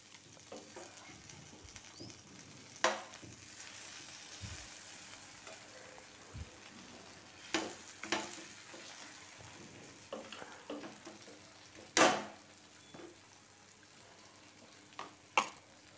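Sliced brinjal fries in a pan with a soft, steady sizzle and crackle, broken by a few sharper stirring clatters and scrapes, fairly quiet and close throughout.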